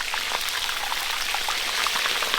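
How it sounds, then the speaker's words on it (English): Food frying in hot oil until crispy, a close, dense crackle and sizzle of popping bubbles that stays steady and even throughout. "Fry them up. Make them crispy."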